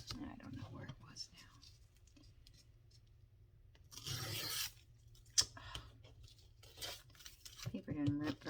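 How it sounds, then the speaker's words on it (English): Paper tears roughly during a scrap-fabric craft session with a ruler, giving a short, coarse ripping burst amid quiet rustling and handling, with a soft voice murmuring nearby. "Paper didn't rip very well."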